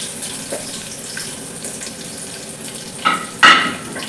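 Bay leaf, cloves, chillies and curry leaves frying in hot oil, a soft continuous sizzle with a couple of sharper spatters near the end, close and moderately loud, without voices.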